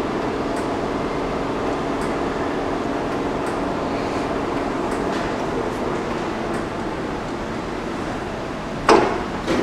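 A Blanchard Model 18-36 vertical spindle rotary surface grinder turns its chuck at slow speed with the spindle off, giving a quiet, steady mechanical drone with faint ticks and a brief clunk near the end.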